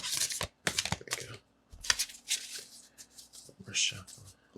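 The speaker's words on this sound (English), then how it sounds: "We're shuffling." Telezma Tarot cards being shuffled by hand in bursts of soft papery riffling and rustling, separated by short pauses, close up with a quiet room behind and a voice speaking at moments.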